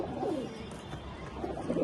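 A black-necked pigeon gives soft, low coos, one near the start and another at the end, faint and close against a quiet background hiss.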